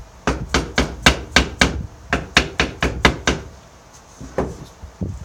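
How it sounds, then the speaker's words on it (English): A soft hammer taps wood down into place, about a dozen crisp, evenly spaced knocks in a quick run, then a pause and two or three final taps, close and clear with no talking. "I'll tap it down with a soft hammer."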